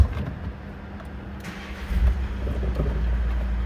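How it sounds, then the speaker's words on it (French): A Volkswagen Caddy 2.0 TDI diesel van engine cranks and catches, then settles into a steady low idle rumble with no one speaking. "on va redémarrer le véhicule."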